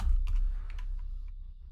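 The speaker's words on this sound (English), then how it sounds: "So we'll start typing the name of our average function" Soft keystrokes on a computer keyboard as a function name is typed into Excel: a quick, uneven run of close, quiet clicks over a low background hum, with no talking.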